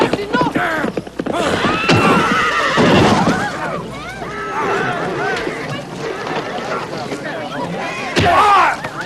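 A horse whinnies and snorts amid scuffling hooves and thuds in a rough Western struggle, with shouting voices over the commotion.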